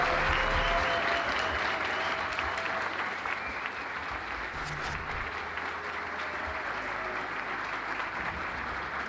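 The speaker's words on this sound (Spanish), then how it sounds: "un aplauso para Dani también" Audience applause at a gathering event in Punta Ballena, Uruguay: sustained, dense clapping from a crowd lasting about nine seconds, fairly loud and even, with faint crowd murmur underneath.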